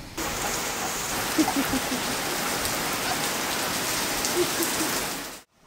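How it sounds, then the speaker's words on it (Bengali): Steady rain falls in a dense, even hiss with scattered drops and patters, continuing without pause before cutting off abruptly at the end. "দেখ কেমন বৃষ্টি হচ্ছে, এখানে বসে বসে দেখ বৃষ্টি।"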